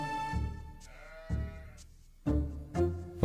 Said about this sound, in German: Okay, die sind schon mal 6 Schafe